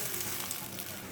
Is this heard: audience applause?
no